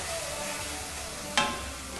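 Bacon knot frying in a pan while clam chowder is prepared, giving a steady close sizzle throughout with one brief sharp clatter near the middle; no talking.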